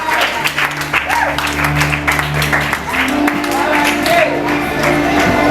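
A church congregation applauds and cheers together, a steady wash of clapping with shouts and whoops rising over it, and voices speaking and singing underneath throughout.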